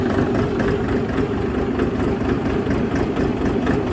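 A Shifeng 244c tractor's diesel engine idles close by with a steady, heavy low chug while the rear hitch raises, loud and unbroken, no talking.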